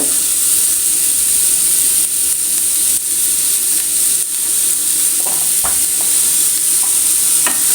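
Onions with salt sauté in a hot pan for an egg curry, giving a loud continuous sizzle and hiss, with a few sharp spoon scrapes and taps from stirring near the end; no talking.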